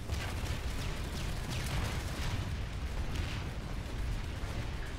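Gunfire in a first-person shooter during a light assault match, heard as a dense, continuous wash of distant shots and explosions that roars steadily at moderate volume without pause, with no voices over it.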